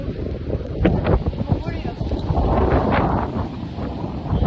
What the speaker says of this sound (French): Il y a beaucoup de vent.